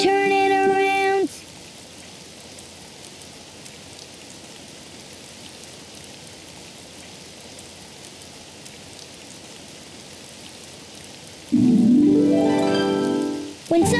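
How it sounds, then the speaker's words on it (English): Steady rain falls outside as a soft, continuous wash of hiss that runs through the whole stretch, with brief louder musical or voiced passages at the start and near the end. "It's raining outside."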